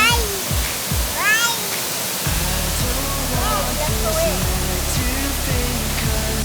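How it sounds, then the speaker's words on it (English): A waterfall in Ubud, Bali, roars as a loud, continuous broadband rush close by, while voices talk excitedly over the water's steady hiss. "This is the most perfect waterfall I have ever seen."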